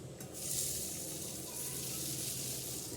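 Black urad dal being rinsed in water for a home-style curry, a steady hiss of running water and sloshing that stays fairly even and moderately loud throughout, with no voices.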